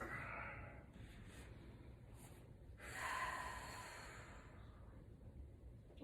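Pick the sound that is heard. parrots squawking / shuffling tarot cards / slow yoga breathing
slow yoga breathing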